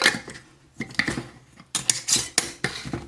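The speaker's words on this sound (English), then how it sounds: "Just get a lid and pop it on the bench." An old lid is set onto a glass jar of red onion fridge pickles on a kitchen bench, giving a series of close, sharp clinks and taps with short pauses in between, and no talking.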